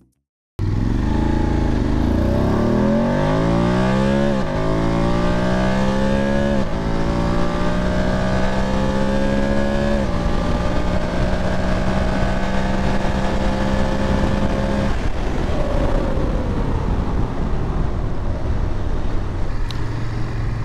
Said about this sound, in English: let's get this thing on the freeway and see how she is at the higher speeds